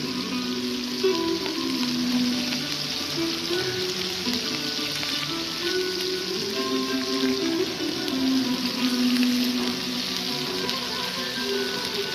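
Food frying on a stovetop burner gives a steady, close sizzle with dense crackle that holds at an even level throughout, with no voices over it.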